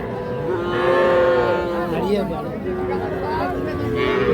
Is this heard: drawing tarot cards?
no